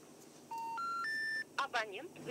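A telephone number is dialed as a quick series of rising keypad tones, each held briefly, followed by short bursts of nearby talk.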